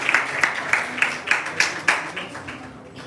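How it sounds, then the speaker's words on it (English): An audience applauding Madam Wilson at a school malaria-awareness event, about eight distinct claps or bursts in an uneven rhythm that thins out toward the end. "can you please give our round of applause for Madam Wilson"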